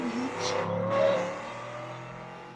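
Engines rev and whine as several cars race in a video game, with a steady motor drone and rising pitch, fairly loud and continuous.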